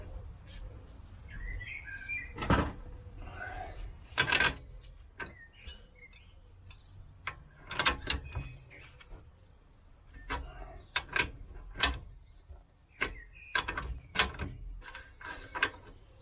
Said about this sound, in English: That's the torque wrenches. It's 3/8.